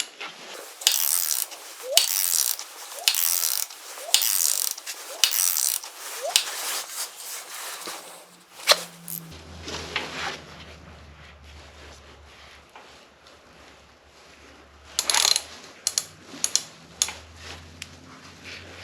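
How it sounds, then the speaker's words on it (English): Ratchet clicking in rhythmic strokes while turning the crankshaft of a 1980 Honda CB900C motorcycle during cam chain tensioner adjustment, close and steady for several seconds, followed by quieter handling and a few more clicks. "I actually want the crank to go completely around 4 or 5 times, and then I'm going to start tightening up the 10mm bolt"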